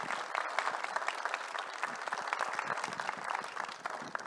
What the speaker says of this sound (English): Please join me in a round of applause for this amazing panel.